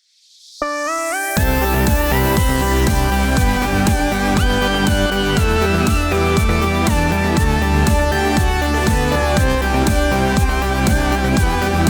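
A synth-driven electronic track with a steady, punchy drum beat and layered sustained chords, loud and continuous after a brief melodic intro.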